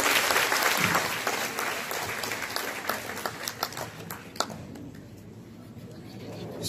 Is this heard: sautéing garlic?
no